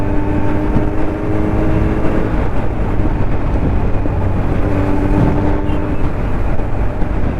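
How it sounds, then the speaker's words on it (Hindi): A Kawasaki Z900 motorcycle engine runs close and loud in a steady, unbroken rumble with a low, even hum for the whole stretch, and no voices. "मेरी बाइक को देख रहे हैं और एंजॉय कर रहे हैं साउंड, जो कि काफ़ी लाउड और काफ़ी अच्छा है"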